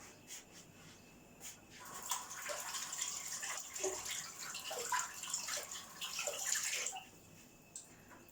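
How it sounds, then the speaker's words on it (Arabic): Tap water runs and splashes while hands are washed at a sink. The soft splashing and trickling is close but fairly quiet, and it fades after about seven seconds. Nobody speaks. "نغسل يديا"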